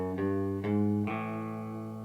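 An electric guitar with effects plays the short closing riff of an intro: three quick plucked notes, the last left to ring out.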